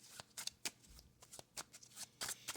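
Playing cards being shuffled and riffled, a quiet close series of soft crisp bursts with uneven rhythm and no voices.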